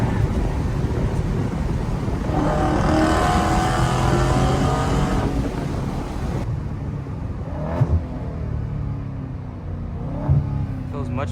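A Dodge Charger or Challenger drives hard and fast, with a loud engine roar and rushing wind that ease off partway through, then a quieter cabin with road noise and people talking.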